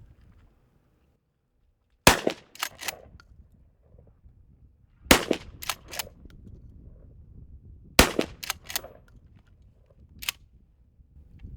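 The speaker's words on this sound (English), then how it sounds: "We're going to fire just a 3-shot group to give you an idea of the capability of slugged rounds out of a improved cylinder choked barrel." A Remington 870 Tactical shotgun fires three slug rounds with an improved cylinder choke, giving three sharp, loud blasts a few seconds apart, each followed by echoing reports across an open range.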